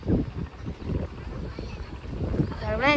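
Fishing boats heading out to sea give a low engine rumble with wind buffeting the microphone, while a person talks nearby over the noise.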